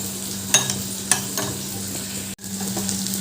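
A spoon stirs three sauces together in a bowl while preparing restaurant-style chilli chicken, giving soft scraping swirls and a couple of clinks over a steady background hum, with a brief cut near the end.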